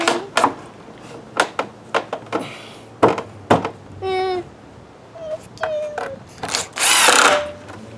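A power drill driving screws into wooden boards of a swing set, with several short whirring bursts separated by pauses and some handling knocks, loud and close.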